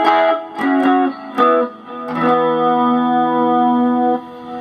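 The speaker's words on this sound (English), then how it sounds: "it shows how much more powerful a humbucker is compared to a single coil" A Jackson Pro Series Soloist SL2Q electric guitar on its full humbucker pickup, a thick, full tone playing several picked chords, then letting one chord ring out steadily before it cuts off.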